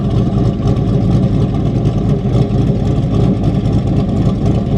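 A cammed V8 in a manual Corvette idles with a loud, lumpy, uneven low rumble, steady and close for several seconds, with no talking.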